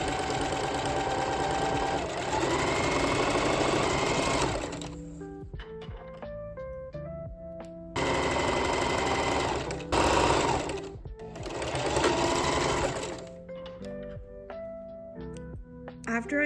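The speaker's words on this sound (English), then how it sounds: "So let's get sewing." A sewing machine stitches fabric in loud, steady whirring runs broken by short pauses and quieter clicks and handling noises, close up with no voices.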